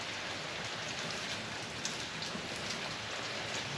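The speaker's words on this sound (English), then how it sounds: "we got more rain" Steady rain falling on a farm, a dense even hiss of drops on surfaces that holds at a constant level throughout with no voices.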